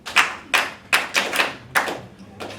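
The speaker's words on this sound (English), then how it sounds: "Class, give a round of applause to Nee." Sparse clapping rings out in a classroom, a handful of distinct, evenly spaced claps close by, sounding like just one or two people rather than a full round of applause.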